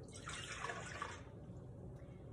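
Warm water poured for a sourdough focaccia dough, a brief soft splashing stream that fades out after about a second, faint and close with no talking.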